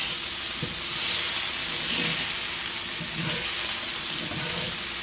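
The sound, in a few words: potatoes frying and being stirred in a pan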